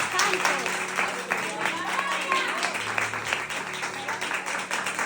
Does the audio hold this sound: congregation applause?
yes